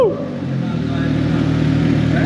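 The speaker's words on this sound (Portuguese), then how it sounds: "Também cortando o giro em primeira." A hot Suzuki GSX 750 motorcycle engine revs hard in first gear against the limiter, a loud, sustained mid-pitched roar that builds steadily, with voices nearby.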